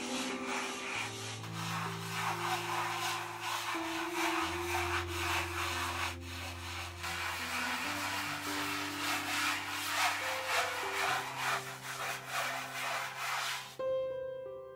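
A hand scrubbing brush rubs acrylic paint across a canvas in a steady, continuous scraping that stays close and loud throughout, stopping abruptly near the end.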